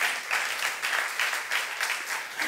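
Church congregation applauding during a youth service sermon, a steady dense wash of many hands clapping together, loud and sustained throughout with no voices above it.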